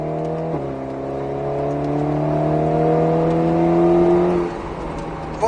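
An Alpine A110S accelerates on a track during a driving course, its engine note rising steadily from inside the cabin and then dropping off as the driver lifts.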